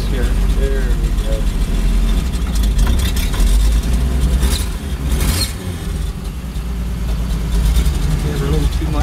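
A 1962 Willys Jeep FC170 forward control 4x4 truck engine running, a loud, low rumbling idle with brief revs, close by, with someone talking over it.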